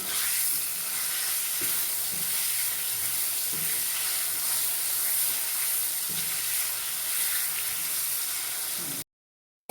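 Tomatoes with spices sizzle steadily in a pan for pasta, a loud continuous fry with soft periodic scrapes of stirring, no voices, cutting off abruptly at the end.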